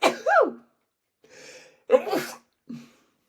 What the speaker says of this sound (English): I'm just sneezing